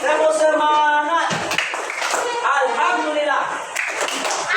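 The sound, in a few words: group doing a rhythmic spirit clap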